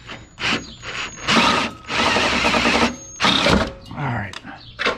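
A drill bores a half-inch hole through a twin-turbo Mustang GT's metal body for a BMR parachute mount, whirring in repeated short bursts with pauses between.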